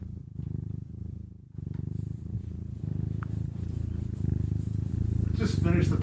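A cat purrs steadily and close for about six seconds, a continuous low rumble that swells slightly toward the end, with people talking faintly alongside.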